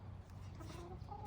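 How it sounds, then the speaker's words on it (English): Chickens on a farm cluck softly and faintly in the background, a few short low calls over a steady murmur of ambient noise. "What type of chickens?"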